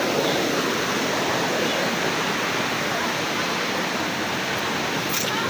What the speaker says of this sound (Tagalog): Ayan na ah, lumalabas yung tubig sa puno.